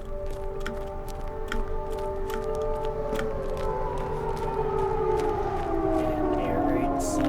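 Civil defense air raid sirens wail in the video game Liminal Lane, several sustained tones sweeping and overlapping steadily and fairly loud across the whole stretch, with scattered faint clicks over the top.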